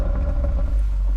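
A 2024 Audi RS3 facelift makes a performance launch start on a track: a deep, loud, rumbling engine roar with some wind buffeting, close and brief, with no voices.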